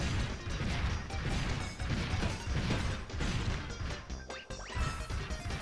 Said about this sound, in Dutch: ik heb heel veel grote blokken kapot gemaakt